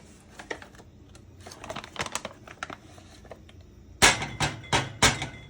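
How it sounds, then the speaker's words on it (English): A spatula scrapes simmer sauce out of a container, with light scratchy taps at first, then four louder, sharper knocks and scrapes in quick succession near the end. "Use my spatula to get every last drop out."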